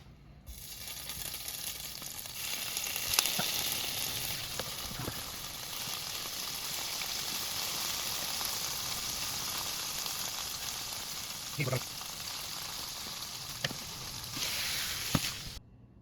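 Swedish meatballs fry in a pan with a steady, close sizzle that holds for the whole stretch, a few faint clicks and taps rising above it.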